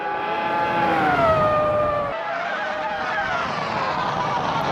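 A race car engine in a Malaysian Grand Prix qualifying lap of a racing video game, a loud steady high-pitched whine that shifts down in pitch midway as the gear changes, then drones on continuously.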